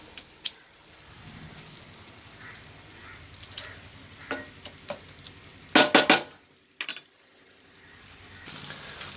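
Sessile joyweed greens stir-fried in a pan with a steady soft sizzle and occasional scraping stirs, including a louder burst of clattering scrapes midway, with no talking.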